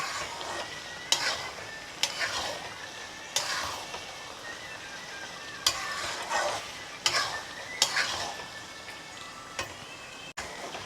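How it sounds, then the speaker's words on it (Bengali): Boiled goat mutton is sautéed in a pan, and a spoon scrapes through it in separate strokes about every second or two over a soft, steady sizzle. The sound is close and moderately quiet, with no voices. "মাংসটা সিদ্ধ হওয়ার পর আপনারা অবশ্যই কষিয়ে নেবেন।"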